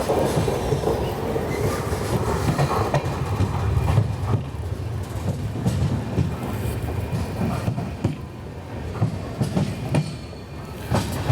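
The Mumbai Amravati Superfast Express, train 12111, rolls along the rails in a sleeper coach with a continuous rumbling clatter and rhythmic wheel clicks. It is steady and loud throughout, with no speech.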